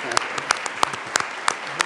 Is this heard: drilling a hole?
no